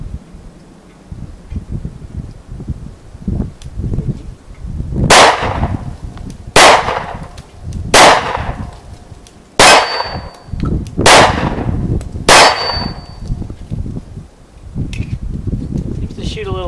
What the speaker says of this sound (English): Okay, we're going to shoot about four more magazines.